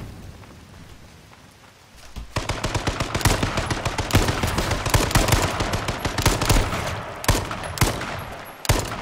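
Rapid full-auto gunfire in the video game H1Z1, dense bursts of shots rattling steadily for several seconds after a quieter start.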